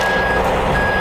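A Palfinger hooklift truck lowering a dumpster sounds a steady, loud reversing beep over the continuous rumble of its engine.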